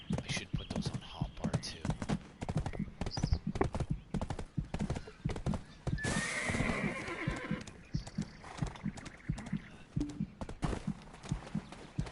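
A horse whinnies loudly amid steady clip-clopping hooves in the video game Black Desert, with someone talking over much of it.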